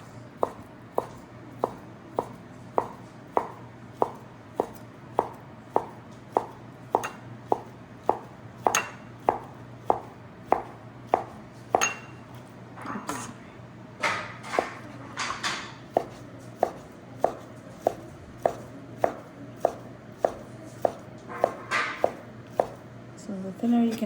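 Knife thinly shredding a folded sheet of fried egg on a cutting board: a long run of regular, crisp taps on the board, close and even in rhythm, slowing near the end, with a voice talking at times.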